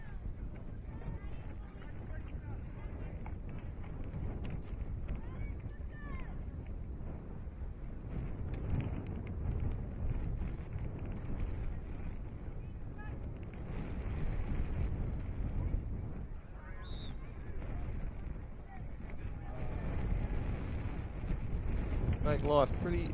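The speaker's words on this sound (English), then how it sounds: "It's windy conditions for players." Steady wind buffeting the microphone at an outdoor women's football match, a continuous low roar that swells at times under a commentator's voice.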